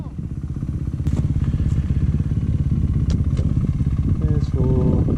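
A motorcycle engine runs hard at full throttle off-road in Johnson Valley, with a loud, close, steady pulsing rumble and mechanical clatter throughout. Voices are heard briefly near the end.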